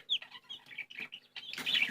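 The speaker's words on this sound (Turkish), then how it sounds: "Bu da kuyruksuz arakuana." A tailless Araucana chicken clucking in short, quick calls close by, ending in a louder burst with a hint of flapping.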